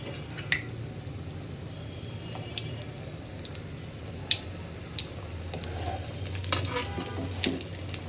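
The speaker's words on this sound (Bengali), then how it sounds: "তেল গরম হওয়ার পর একটা একটা করে ছেড়ে দিব ছেড়ে ভেজে নেব" Khaja pastries deep-fry two at a time in hot oil, a quiet, even bubbling hiss dotted with scattered small pops and crackles, and no speech.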